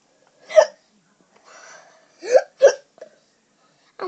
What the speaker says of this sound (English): This is showing you guys how to get rid of the hiccups.